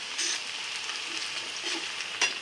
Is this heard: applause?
no